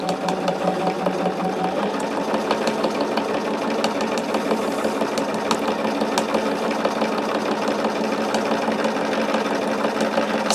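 Domestic sewing machine stitching a small charm bag, its worn needle clacking in a fast steady rhythm, loud and close throughout with no talking.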